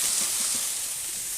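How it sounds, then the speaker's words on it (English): Shallots sizzle in smoking-hot rapeseed oil in a pan, a steady close hiss running unbroken and alone. "You want to hear that sizzle."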